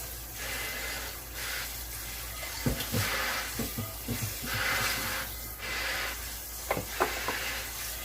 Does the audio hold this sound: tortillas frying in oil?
yes